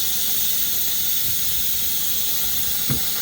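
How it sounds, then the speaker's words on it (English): Steady, loud hiss of pressurized steam rushing out of an Instant Pot pressure cooker, continuous and close, with a faint knock near the end. "I'm gonna release my steam."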